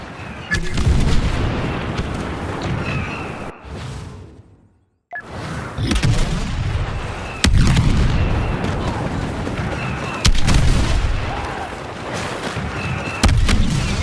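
Star Wars Battlefront 2 campaign combat: dense, loud gunfire and booming explosions with whooshes, sustained across the stretch and broken by one brief near-silent gap, with faint voices now and then beneath the battle.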